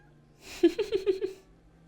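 A small cat in the Split Fiction video game lets out a short, close, run of about five quick chirping meows lasting around a second, alone with no talk over it.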